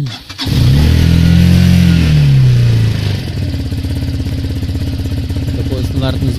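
A Minsk X 250 motorcycle is started and then idles. The engine catches and revs loudly up close, then settles into a steady, throbbing idle that carries on to the end.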